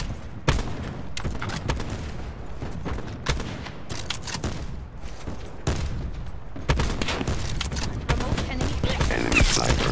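Enemy sniper and other gunfire in a shooter video game, with repeated sharp shots and crackling bursts over a dense battlefield din, loud and close.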